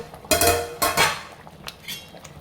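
Metal pot lid lifted off a pot of cooking rice, two sharp clanks close together followed by a few lighter clinks and taps, close and alone with no talk.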